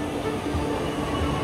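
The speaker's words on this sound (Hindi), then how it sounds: "तो ये लो भाई आ गई चेन्नई वाली मेट्रो एकदम नीले नीले" A blue Chennai metro train rolls into the station with a steady low rumble and hum of wheels and motors, continuous and fairly loud, no voices.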